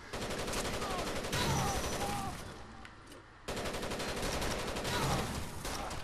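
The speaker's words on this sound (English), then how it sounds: "they're still very clearly firing" Sustained rapid gunfire from the video game Rainbow Six Vegas 2, dense bursts of shots and explosions filling the scene, dropping away briefly mid-clip before resuming loudly, with faint voices underneath.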